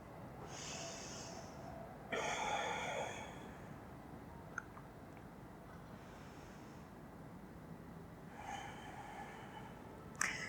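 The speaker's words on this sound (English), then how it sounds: "Two deep inhales and exhales here." Deep, slow breaths during a fast-paced cardio yoga class: three audible inhales and exhales, each about a second long, breathy and close, with quiet stretches between them.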